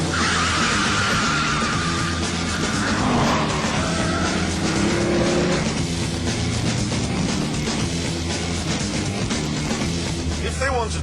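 A Dodge Viper SRT-10 with its 8.3-litre, 500-horsepower V10 roars while driving, with squealing skids and loud engine noise throughout and a voice speaking over it.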